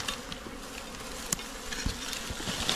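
Bees buzzing steadily around an old honeycomb nest tucked in a wall corner, a continuous close drone with a few sharp knocks and thuds over it.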